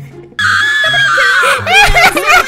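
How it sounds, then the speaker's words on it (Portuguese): A loud, high-pitched scream from a character in trouble in GTA 5 rings out sharply, broken into shaky, laugh-like bursts over a lower background tone. "vocês ouviram esse grito?"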